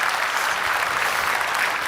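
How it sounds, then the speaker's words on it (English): Steady applause from an audience at an evening talk on technology and creativity, a continuous dense patter of clapping hands, loud and even throughout, with no voices over it. "I ask your applause for Anne-Sophie, who's going to explain everything for you."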